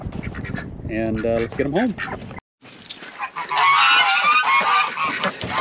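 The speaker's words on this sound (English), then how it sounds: "Got some ducks we're adding to the flock" Mallard ducks being added to a farm flock quack and honk in loud, close, raspy bursts, some overlapping, while a person speaks briefly among them.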